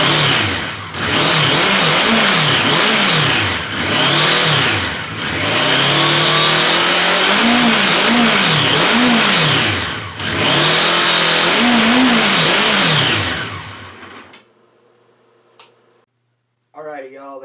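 A 1977 Suzuki GS550 four-cylinder motorcycle engine runs on all cylinders, revving up and down in repeated loud swells near the microphone. It then cuts out abruptly toward the end, leaving near silence with a brief voice.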